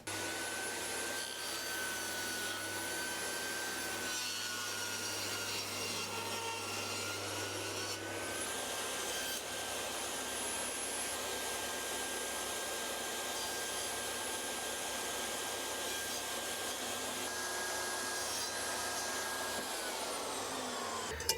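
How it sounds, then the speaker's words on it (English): A power saw rips thin oak strips with a continuous, steady whine for about twenty seconds. It is loud and close, with the pitch holding nearly constant throughout and no speech. "I have some thinner bits of oak that I'm going to rip into some strips"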